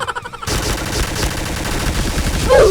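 Point Blank video game gunfire from a bot shooting, rapid loud bursts running continuously with no pause, close and dense throughout.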